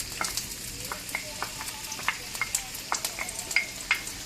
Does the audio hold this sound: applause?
no